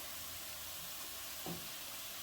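Chopped onion and Malvani masala spices fry in hot oil for a crab masala, giving a soft, steady sizzle with one brief stirring scrape midway. No one speaks.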